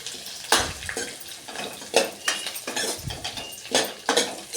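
A spoon stirs spice masala into cucumber curry cooking in a pan, giving a series of sharp metallic scrapes and clinks at an irregular rhythm, close and fairly quiet.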